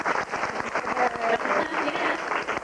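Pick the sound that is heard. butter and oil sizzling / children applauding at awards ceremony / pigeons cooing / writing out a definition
children applauding at awards ceremony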